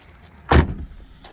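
A Jeep Wrangler JL door slams shut with one loud, close thud and a short rattle fading after it, then quiet.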